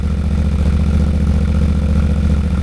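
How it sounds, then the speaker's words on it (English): The engine of a 2023 Yamaha Tenere 700 motorcycle idles close and loud, a steady, throbbing low pulse that holds even throughout. "She sounds so good. Quite the upgrade from the way the KLR sounded."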